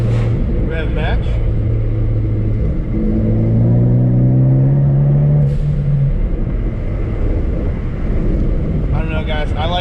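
A Ford Focus ST with a Mountune resonator-delete exhaust downshifts from fourth to third with a rev-matching blip, the engine note rising and falling under steady road and wind rumble, with a voice briefly heard.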